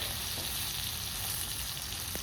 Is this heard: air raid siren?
no